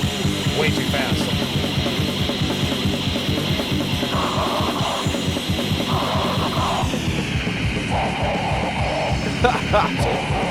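A Swedish death metal demo record plays too fast at the wrong speed, a dense and distorted wall of sped-up guitars and pounding drums that stays loud and unbroken for the whole stretch.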